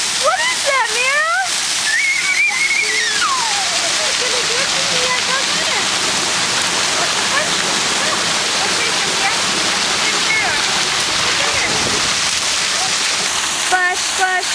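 A child splashes in water at a second-birthday outing, a loud, continuous wash of water and splatter with excited children's voices and squeals cutting through the scene.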